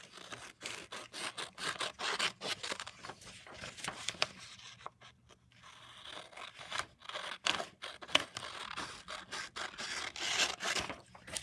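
Scissors snip and rustle through paper for a notebook page in quick, close, quiet cuts, with a brief pause midway.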